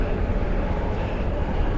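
Steady, dense rumble of buses and trams moving through Piccadilly Gardens in central Manchester, a continuous loud city-traffic drone with no distinct individual events.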